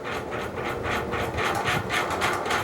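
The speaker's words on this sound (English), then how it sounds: "But it is really loud because something's rubbing on the switch housing." A 56-inch FASCO great room ceiling fan from around 1990 with hi-gloss blades runs at high speed. A steady loud rush carries a rhythmic scraping pulse several times a second as something rubs on the switch housing.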